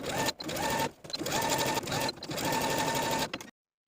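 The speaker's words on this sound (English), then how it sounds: "now I'm going to take it to my sewing machine and edge stitch close to that inner raw edge" A sewing machine edge-stitching fabric runs in several steady bursts of rapid stitching, separated by short pauses, close and fairly loud.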